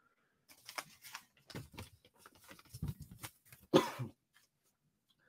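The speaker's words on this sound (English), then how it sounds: "I'm so sorry about this cough" Several harsh coughs and throat-clearing bursts in quick succession, close by, ending with one louder hacking cough, in an otherwise quiet room.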